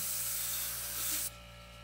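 An airbrush sprays paint onto the edge of a stencil shield, giving a steady airy hiss over a low constant hum that cuts off abruptly near the end, leaving only the faint hum.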